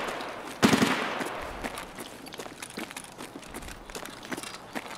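Gunfire in the shooter Escape from Tarkov: one loud close shot, then scattered fainter pops and shuffling movement, with footsteps trailing on.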